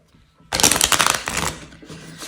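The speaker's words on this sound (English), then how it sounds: "Do a good hard shuffle." Tarot cards get a vigorous, hard riffle shuffle up close: a sudden burst of dense papery flapping and clicking that runs for about a second, then trails off into lighter shuffling.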